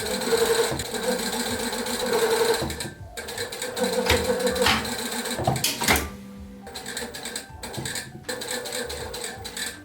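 A sewing machine stitches a seam on wide-leg pants in several rapid whirring bursts, broken by short pauses and small clicks as the fabric is repositioned, heard close up without talk.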